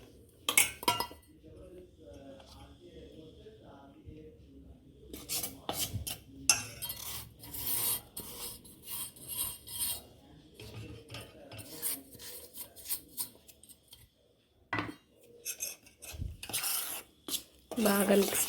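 Butter and powdered sugar being mixed by hand in a bowl for an eggless banana cake, giving repeated scraping, rasping strokes against the bowl with occasional clinks, close and steady throughout, with faint voice in places.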